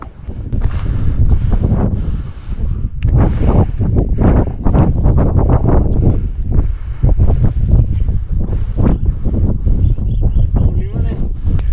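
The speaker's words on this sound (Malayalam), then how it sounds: "നല്ല കാറ്റുണ്ട് കേട്ടോ" Strong gusts batter the microphone at the Nadukani hilltop viewpoint in Kothamangalam's hills, a loud, rumbling, buffeting roar that surges and holds throughout, with voices partly heard under it.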